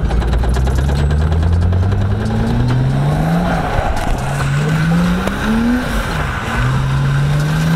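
A car accelerates hard, its engine climbing in pitch through repeated upshifts in a rising, falling pattern, loud and close, with road and wind roar underneath and no talking.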